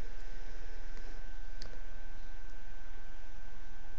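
Computer mouse clicks, a single faint sharp click partway through, over a steady hiss of background noise.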